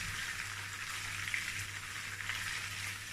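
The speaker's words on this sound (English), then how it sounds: "So I'm going to fry this for about 2 minutes." Beef frying in oil in a pot for a party-style tomato sauce dish, a steady, even sizzle with soft crackles, close and continuous, no voices.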